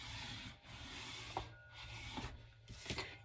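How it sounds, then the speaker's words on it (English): A tool rubs alpha stickers down onto paper in soft, quiet scraping strokes, several short passes with brief gaps between them, close and alone. "Now I'm going to burnish this down again."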